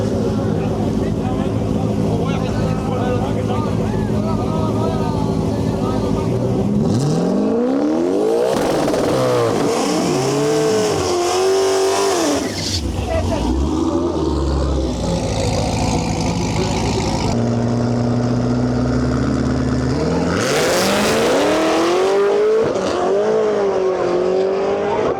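A Ford Mustang and a Pontiac G8 GT launch in a Modern Muscle drag race, engines revving loud and close before roaring away with rising pitch sweeps, a second hard acceleration following later, with track announcer talk mixed in.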